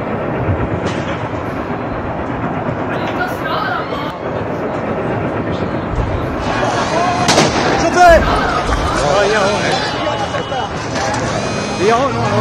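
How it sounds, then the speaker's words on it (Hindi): Israeli bombing in Lebanon strikes during a live news broadcast, heard as loud, sustained rumbling blasts and crackling debris, with a heavier burst around the middle, under continuous noisy commotion. "उसी लाइव के दौरान इसराइल की बमबारी वहां हो गई"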